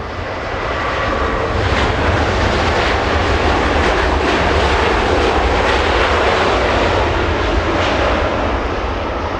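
A jet airliner roars past at Los Angeles International Airport, loud and close, a dense broadband engine rumble that holds steady for about nine seconds with no voices.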